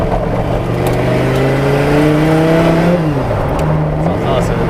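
Porsche 917 fitted with an Audi R8 V10 engine revs loudly and close, pitch climbing steadily then dropping and rising again, a sustained screaming drone with voices briefly under it.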